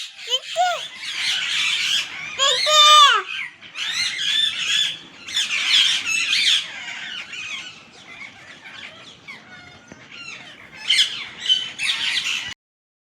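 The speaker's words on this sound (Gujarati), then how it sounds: "કેવા ઉડે છે ને કેવા બોલે એક પોપટ જામ બેસી ગયો" A parrot squawks and screeches repeatedly at close range, loud harsh calls coming in clustered bursts with brief pauses, more scattered toward the end.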